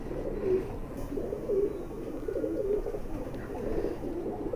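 Several high flyer pigeons in Bhopal coo in low, rolling bursts that rise and fall steadily throughout, moderately close with a soft background hum and no talking.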